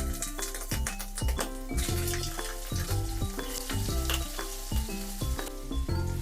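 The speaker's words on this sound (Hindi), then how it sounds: "और पनीर को थोड़ा ऑयल में भून लेंगे, तल लेंगे।" Paneer fries in oil in a pan on low heat for restaurant-style matar paneer, a continuous sizzle with light clinks of the pan and spoon, partly masked by rhythmic background music.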